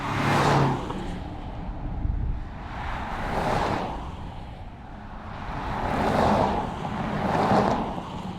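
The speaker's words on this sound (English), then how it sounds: "This one that we're driving right now, it's a 6-cylinder diesel." A BMW X7 SUV with a 6-cylinder diesel engine drives along steadily, its low engine drone rising and falling in slow surges over continuous road and wind noise.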